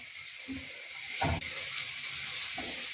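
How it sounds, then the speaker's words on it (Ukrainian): Carrot frying with onion in a pan, a steady close sizzle with one brief louder stir or scrape partway through, no talking. "смажиться морква."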